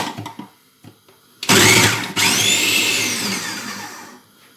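A food processor blade whirs loudly as red onion is chopped, starting with a sharp burst, briefly stopping, then running steadily before winding down, with a few soft clicks beforehand.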